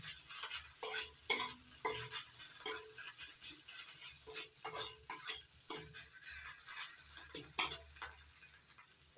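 Ginger-garlic paste with onion frying in a pan, a soft sizzle under repeated scraping stirs, sharp spoon-on-pan clicks and taps coming in an irregular rhythm, close and fairly quiet, with no talking.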